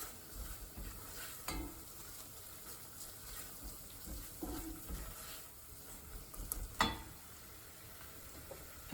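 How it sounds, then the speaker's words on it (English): Shahi Paneer masala toasting in a pan before vodka sauce goes in: a faint, continuous sizzle with soft stirring scrapes and an occasional sharper utensil tap close by, and no talk. "just toast the Shahi Paneer masala"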